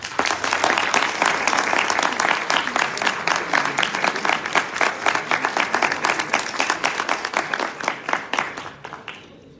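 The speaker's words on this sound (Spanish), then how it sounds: "les pido un fuerte aplauso para el arquitecto Javier Fonseca." Dense, loud audience applause greets an architect at a presentation of his house-themed collection, a steady wash of many clapping hands that thins into separate claps and fades out near the end.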